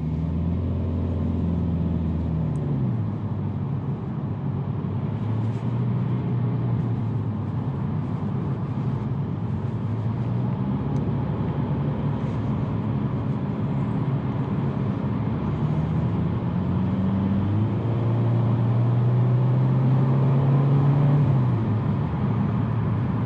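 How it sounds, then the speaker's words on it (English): Steady engine and road noise rumble from inside a moving 2020 Hyundai Venue, with the engine pitch rising and falling as it revs. "Now you do have to rev it up quite a bit"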